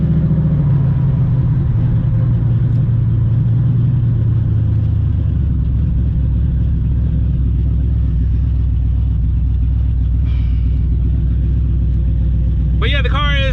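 A Ford SN95 Mustang engine rumbles steadily close by, a deep idle that drops slightly in pitch partway through, with someone talking over it and a brief squeak near the end.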